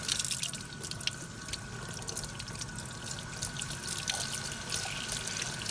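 Water running steadily from a tap while glaze is rinsed and swished in a rinse bucket, a continuous close splashing trickle with occasional drips.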